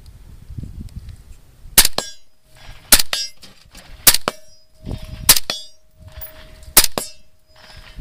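Five suppressed rifle shots fired in steady succession about a second apart, each a sharp loud crack with a metallic ring, close by, with soft handling noise between them and a faint tone under everything.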